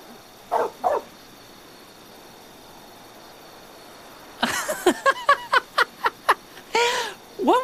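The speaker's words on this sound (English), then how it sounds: "What was that yip, Carl?" In the Trials of Mana game, Carl the wolf pup lets out a pair of quick, faint yips. A pause follows, then a rapid run of about a dozen short, sharp yelps and barks, loud and close.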